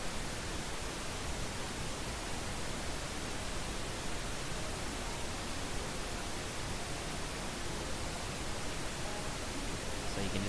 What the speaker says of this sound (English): hear it over this pink noise right here.